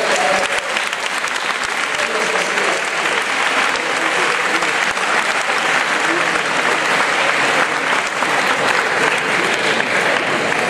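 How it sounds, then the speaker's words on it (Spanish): A school audience at a Capuchin school bursts into loud, sustained applause, a thick close wall of clapping from a crowd that holds steady throughout. "Un aplauso."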